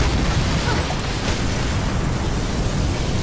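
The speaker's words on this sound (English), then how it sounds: "Big explosion over here." A big explosion in the video game Mirror's Edge Catalyst, a loud, dense, continuous roaring rumble that fills the whole clip with no talk over it.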